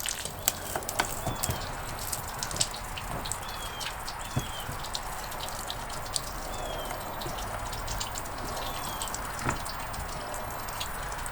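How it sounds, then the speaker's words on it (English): Water drains out of the fresh water low point drains beneath a 2023 Reflection fifth wheel RV, heard as scattered dripping and splattering over a steady wet hiss, with occasional sharper drops, close by and without speech. "So let all the water fall out."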